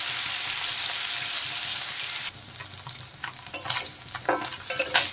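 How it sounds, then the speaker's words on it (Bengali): Fish fries crisply in hot oil in a pan, a steady bright sizzle that gives way to clattering stirring and uneven crackle bursts, close up with no talking. "মাছ কিন্তু কড়া করে ভাজতে হবে"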